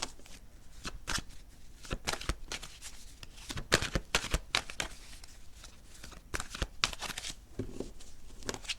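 Playing cards are shuffled by hand in a series of crisp, rapid riffling bursts with short pauses between them, close and moderately quiet.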